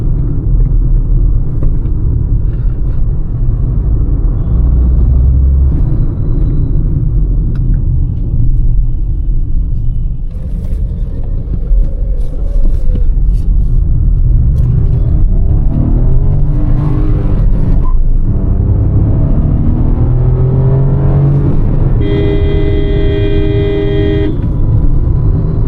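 A Maruti Brezza facelift SUV on the road heard from inside, steady engine rumble and tire drone throughout with a short horn toot near the end.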